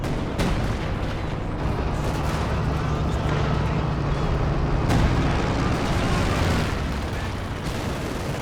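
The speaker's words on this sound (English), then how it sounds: "There's this barrage action nearly clearing off the pack." Artillery barrage in a Company of Heroes 2 4v4 match: a dense, continuous rumble of low booms and blasts rolling on for the whole stretch, loud and fairly close, with a sharper burst near the middle.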